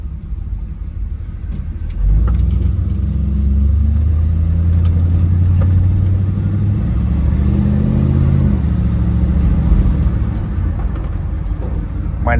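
A 1966 Chevrolet Impala SS with its numbers-matching 396 V8 idles in a deep, steady rumble that starts abruptly after two seconds of near-quiet and holds loud and close, with slight throttle swells.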